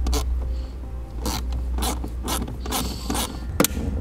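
A 7 mm bolt removed from a lower panel on a 2016 vehicle, heard as a steady series of close ratchet clicks and scraping over a low hum, with a sharp knock near the end.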